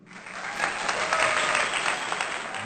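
Audience applause at a Christian entertainment show, a dense burst of clapping from a crowd that swells and holds steady for a few seconds without talk.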